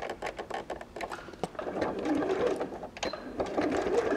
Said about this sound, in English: I'm placing my right sides together fabrics over a layer of wadding and just stitching